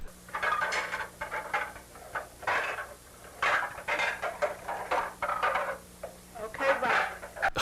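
Dishes, pots and cutlery clatter in repeated bursts of clinking and scraping, loud and close, with short pauses between the clusters of knocks.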